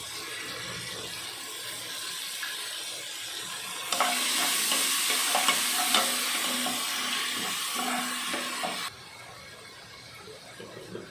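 Ginger garlic paste sautés with softened tomatoes in a pan, a steady close sizzle that grows louder midway as stirring adds scraping and clatter, then settles back to a quieter fry.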